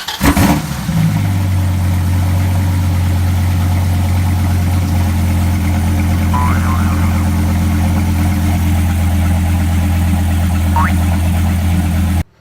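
A 2008-2010 Dodge Viper engine, just refitted with a new intake manifold, cranks and catches, then settles into a loud, steady low idle that rumbles on evenly with a few faint background noises.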